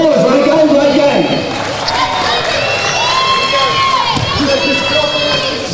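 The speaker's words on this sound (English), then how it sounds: "Give me a round of applause, Ranko." Crowd at a Toowoomba Mountaineers versus Brisbane Capitals basketball game cheers and shouts steadily in an indoor arena, with whoops rising over the din throughout.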